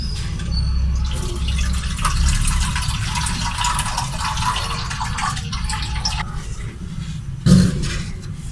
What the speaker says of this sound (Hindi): ये मैंने 1 कप और पानी डाल दिया।